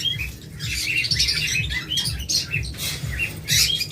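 Several caged lovebirds squawking and chirping in sharp, overlapping bursts close by, with a steady low rattling patter underneath.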